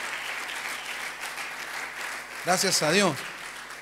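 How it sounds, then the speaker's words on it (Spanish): Congregation applause at a Sunday church service fills the room steadily, and a voice speaks briefly over it near the end. "denle un aplauso al Señor por ejemplos de servicio"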